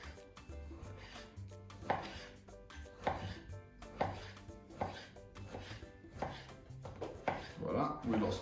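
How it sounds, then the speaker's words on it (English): Repeated knife chops on a cutting board as guanciale is cut into chunks for pasta carbonara, irregular close thuds roughly once a second with quiet gaps between. "And now we cut it into smaller chunks, but as I said, not too small."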